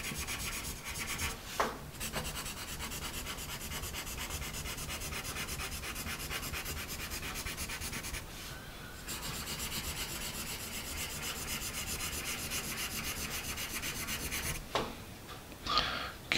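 A Bazic 2B pencil scratches steadily across paper, a continuous close, dry rubbing texture with a couple of short pauses as the point lifts.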